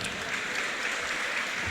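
Audience at a women's boxing fight night applauding the female boxers after the first round, a steady wash of clapping at moderate, slightly distant volume with no voices over it.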